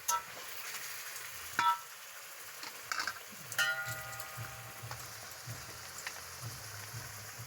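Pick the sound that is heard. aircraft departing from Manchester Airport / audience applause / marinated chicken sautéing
marinated chicken sautéing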